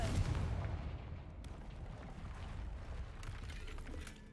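Confringo fire spell cast in Hogwarts Legacy: a heavy burst opens loud and booming, then decays into a rumbling, crackling tail with a few sharper clicks and debris-like rattles trailing off.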